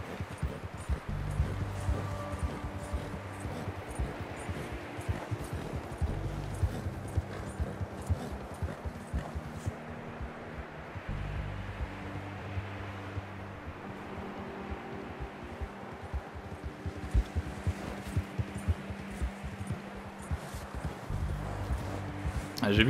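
Steady clip-clop of horse hooves in the video game Red Dead Redemption 2 plays throughout at a moderate pace, with a person talking in French over it.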